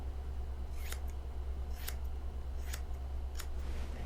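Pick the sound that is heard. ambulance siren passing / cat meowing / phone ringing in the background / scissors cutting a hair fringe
scissors cutting a hair fringe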